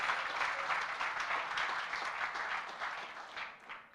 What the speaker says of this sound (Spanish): Dale ese fuerte aplauso al Señor nuestro Dios